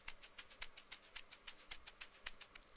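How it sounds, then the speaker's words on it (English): A shaker keeps a quick, even rhythm of crisp, bright shakes in a pop beat, faint and unaccompanied by any voice. "then also you're gonna add a shaker"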